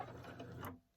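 Brief, faint mechanical whirring of a sewing machine running a short locking stitch on a Christmas candle appliqué table runner, stopping abruptly near the end.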